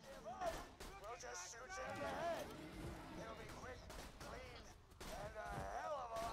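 Gunfire from the video game Borderlands 2, repeated shots and bursts running steadily under a continuous talking voice, moderately loud with a game soundtrack behind.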